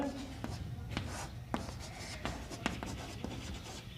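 Pen or chalk strokes write out an example sentence during a Hindi grammar lesson, a soft, scratchy series of short marks at an uneven pace, close by.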